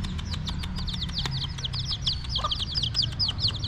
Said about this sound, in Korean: 엄마는 도망가지 않네. 다른 닭들은 도망가는데.